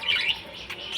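Caged budgerigars give faint, thin chirps and tweets, a few brief high notes scattered across a moment of quiet room sound.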